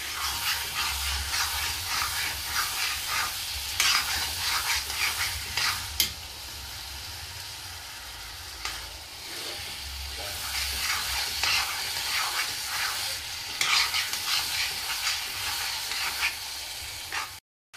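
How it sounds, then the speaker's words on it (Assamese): Chicken pieces and new potatoes frying in hot oil in a home kitchen, with a steady close sizzle and crackle broken by occasional stirring clatter of a utensil against the pan. "এতিয়া দেখিবলৈ পাইছে ছাইডৰ পৰা আপুনি অলপ তেলটো ফুটি ফুটি আহিছে"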